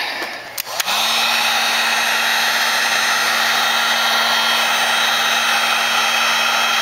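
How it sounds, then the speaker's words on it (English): A heat gun switches on and blows steadily over a freshly printed circuit board, a loud, even whooshing roar with a constant whine that runs unbroken after a brief click at the start. "So again, I use the heat gun,"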